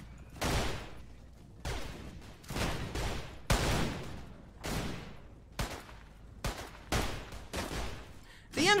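Gunfire in the Mount and Blade Full Invasion mod, a series of loud sharp shots and short bursts in irregular rhythm, some close and some overlapping, with battle noise between them.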